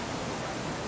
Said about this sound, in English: The rain sounds and the waterfall sounds.